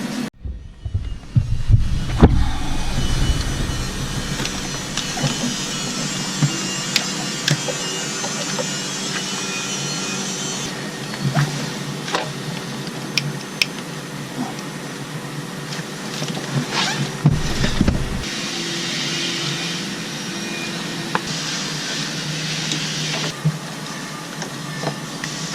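A power tool cuts up the middle of a damaged mast step on a Tartan 37 sailboat, a steady grinding buzz rising into two longer, harsher bursts, with scattered knocks and clatter close by and no talk.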